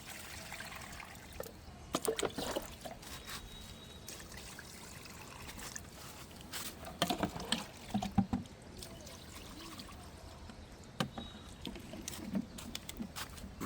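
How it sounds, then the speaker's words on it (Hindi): Liquid mustard cake fertilizer poured onto garden plants, about half a litre each: soft trickling and splashing in bursts, with a few louder knocks and handling noises between pours, no voices. "आधा आधा लीटर हम यहाँ पर इस तरह से ये खाद डाल देंगे"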